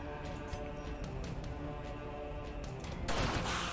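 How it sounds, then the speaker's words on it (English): Gunfire from a pistol in the video game Darkest Dungeon, a dense crackling volley of overlapping shots with a sharper, louder burst near the end, heard over a busy game soundscape. "Pistol shot."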